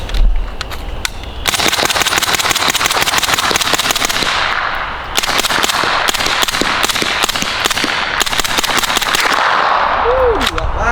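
Suppressed subsonic rounds from a Century Arms AP5SD with a threaded-on suppressor fire as a rapid string of sharp, dull cracks, many shots in quick bursts across the span, close and loud with faint voices between.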